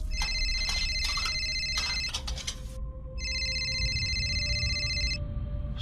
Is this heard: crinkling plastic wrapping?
no